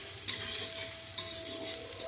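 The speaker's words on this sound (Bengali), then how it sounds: "গোটা গরম মশলা ফোড়ন দিয়ে পেঁয়াজটা ভাজছি।" Onions frying in oil with whole garam masala as the base for a meat curry: a steady close sizzle, with a few soft clinks of a spoon against the pan.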